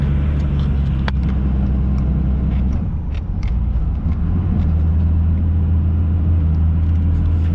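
A hotshot pickup truck's engine rumbles steadily in four-wheel drive while climbing a mountain road, a loud, close, continuous low drone with road noise and no pauses.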